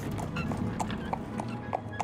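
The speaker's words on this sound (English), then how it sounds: "Horse." Horse hooves clip-clop in a steady, moderately loud rhythm of several hoof strikes over a busy background in an animated scene.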